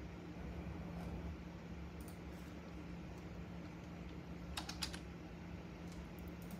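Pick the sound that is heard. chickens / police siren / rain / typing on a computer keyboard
typing on a computer keyboard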